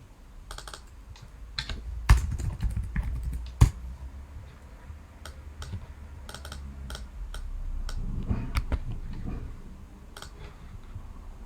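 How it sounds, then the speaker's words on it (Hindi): A computer keyboard is typed on in uneven bursts of close clicking and tapping, with a few louder key strikes, and a low background hum runs under it. "मैं यहाँ टाइप कर देता हूँ।"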